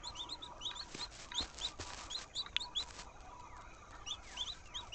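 Chickens in the farming game Dinkum cluck and chirp in short, faint calls scattered across a soft ambient background, with no talking.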